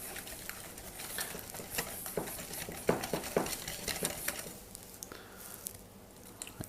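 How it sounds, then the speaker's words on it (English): Whisking a lumpy milk batter in a bowl for Swedish raggmunk potato pancakes: close, rapid, irregular scraping and clinking taps of the whisk, with no voices. "Start whisking it together, trying to get all the lumps out."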